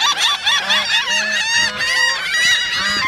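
Geese honk repeatedly and loudly at close range, a dense cluster of overlapping calls at a pond where birds are being fed.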